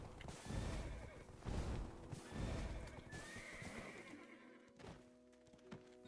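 A horse in the Black Desert online game gives a loud neigh while hooves clip-clop and thud in uneven bursts. The sound then fades to lighter steps over a soft hum.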